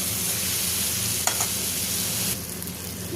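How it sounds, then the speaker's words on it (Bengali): Fried pointed gourd being stirred into a spice masala, a dense continuous sizzle close by with a brief scrape in the middle, the frying easing slightly toward the end. "এটা দিয়ে দিলাম ভেজে রাখা পটলটা। এটা একটু নাড়াচাড়া করে নিয়ে"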